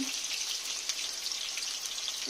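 Potatoes fry in plenty of hot oil in a pan, giving a steady, close, crackling sizzle with small pops and no voices.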